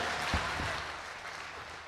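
Audience applause at a Jain conference gathering, a steady wash of many hands clapping at moderate distance, fairly even in loudness throughout with no talk over it.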